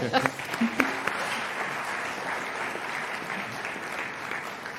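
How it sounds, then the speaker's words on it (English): An audience at a conference session gives its panelists another round of applause, a sustained, even crowd of clapping that starts with a few sharper claps and then holds steady to the end. "Please join me in giving them another round of applause"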